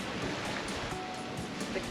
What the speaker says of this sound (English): so it's making for some slop in the water